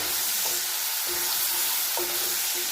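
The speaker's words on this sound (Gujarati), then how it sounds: "પેસ્ટને આપણે એકદમ સારી રીતે સાતરશું" Ginger, garlic and chilli paste with asafoetida sizzling steadily in hot oil in a pan for dry zunka, with a few soft stirring scrapes over a constant bright hiss.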